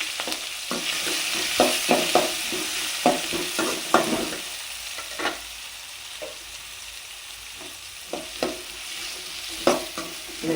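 Onions fry in oil with popped mustard seeds and green chillies for tomato thokku, a continuous sizzle broken by repeated scraping stirs of a spoon against the pan, close and fairly loud.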